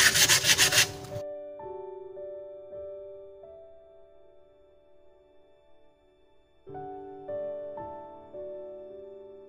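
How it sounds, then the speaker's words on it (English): Sandpaper rubs excess wood filler off a piece of wood in a short, loud, scratchy burst of about a second at close range. Soft tonal music follows alone. "take a little piece of sandpaper and sand off this excess of wood filler that is overhanging here"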